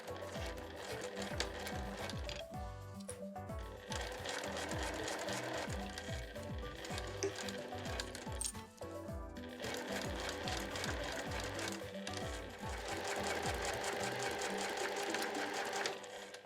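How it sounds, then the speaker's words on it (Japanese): A sewing machine stitches three stacked layers of Liberty cotton scraps and nylon with a 5mm seam, its rapid needle chatter running steadily and close throughout, with a few brief pauses and no talk. "では片側をまず 5mm で縫いましょう。"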